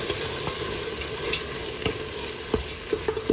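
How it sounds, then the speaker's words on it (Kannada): Soaked rice and lentils stirred in a pot, giving soft, irregular scraping and clicking strokes with a faint sizzle underneath, fairly quiet and close. "ಅಕ್ಕಿ ಮತ್ತು ಬೇಳೆ ಇದನ್ನು ಹಾಕ್ಕೊಂಡು ಸರಿ ಚೆನ್ನಾಗಿ ಮಿಕ್ಸ್ ಮಾಡ್ಕೊಳ್ಳೋಣ"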